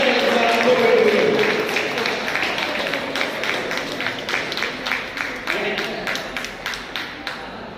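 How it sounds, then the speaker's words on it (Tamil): An audience at a prize-giving ceremony applauds to welcome a Madurai lawyer to the stage. A voice speaks over the opening, then many hands settle into steady, rhythmic clapping that carries on to the end. "அவர்களை நல்ல ஒரு பலத்த கரகோஷத்துடன் மேடைக்கு அழைக்கிறோம்."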